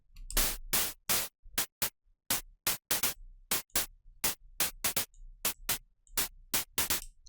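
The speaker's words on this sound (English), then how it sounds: "this white noise layer has the same effect as the snare" Short bursts of hissing white noise from a synth layer in a deep house track pulse in a steady rhythmic pattern, each hit bright and abrupt with silence between.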